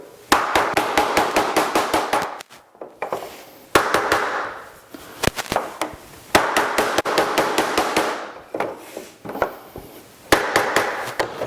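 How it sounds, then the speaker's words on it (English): Rapid, sharp hammer blows on metal over wood ring out in quick bursts of several strikes each, loud and close, with brief pauses between runs. "I'm going to take a hammer and beat on this"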